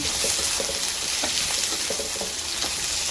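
Seafood with onion and capsicum sizzles and hisses steadily on a hot plate, a close, continuous frying crackle with faint stirring scrapes.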